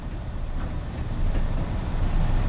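A Class 37 diesel locomotive in the Train Sim World video game, on the Tees Valley Line, pulls away after a gear change with a low, steady rumbling engine drone that swells slightly.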